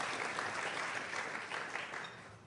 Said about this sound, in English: You can clap for Ramadan Kareem.